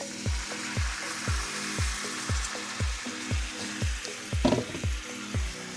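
Water poured into frying butter chicken spice paste in a pan, sizzling and bubbling in regular pulses with a brief louder splash partway through, close and steady.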